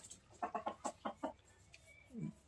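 A chicken at a market in Balarampur clucks in a quick run of six or so short, close clucks, then lets out a softer, lower call after a brief pause.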